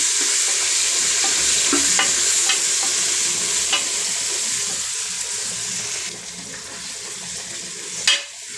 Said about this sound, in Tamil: நம்ம ஊற வச்ச மட்டன் மசாலாவை அப்படியே சேர்த்துறணும். சேர்த்து நல்லா வதக்கிடணும்